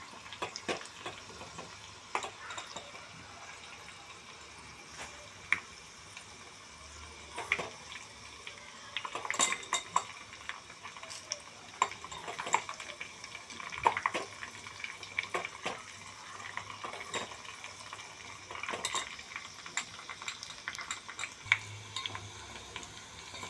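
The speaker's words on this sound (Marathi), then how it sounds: "लसूण घालायचा, लसूण असा मस्त लाल सुरून होऊ द्यायचा." Garlic frying in a pan while cooking lahsun palak, a steady faint sizzle with scattered clicks and scraping stirs throughout, no voices.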